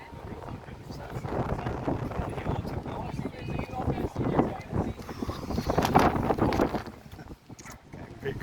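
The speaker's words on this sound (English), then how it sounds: "Oh, it's windy" Gusty wind buffets the microphone in uneven bursts on a high walkway at the Revolution evacuation tower, Blackpool Pleasure Beach, with rustling and footsteps underneath and a voice speaking briefly.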